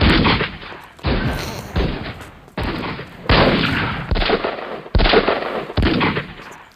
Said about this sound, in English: Lieutenant Marshal Jones of the 8th Illinois Voluntary Cavalry fires the first shot at the Battle of Gettysburg